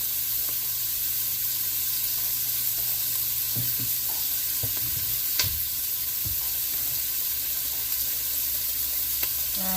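Onions frying in a pan for chicken pot pie, a soft continuous sizzle with a few scattered stirring clicks and scrapes, quiet and close.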